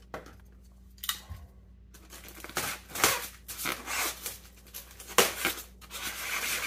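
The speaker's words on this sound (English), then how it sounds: "So there's some styrofoam in the box. Let's cut this open." A cardboard box packed with styrofoam is cut open, giving a series of scraping, tearing bursts at uneven intervals with quiet gaps between, close and fairly faint.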